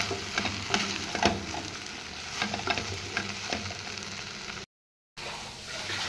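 Chilli cauliflower (chilli kobi) coated in cornflour frying over a medium flame while being stirred, a steady sizzle with scraping and stirring knocks, cut by a brief gap of silence.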